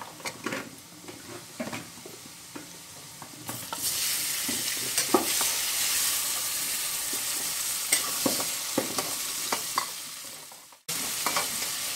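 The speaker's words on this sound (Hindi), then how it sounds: "अब इसमें डालती हूँ मैं टमाटर" Tomatoes dropped into a hot pan break into a loud, steady sizzle, with clicks of a spoon stirring and scraping throughout and a brief cut near the end, no talking.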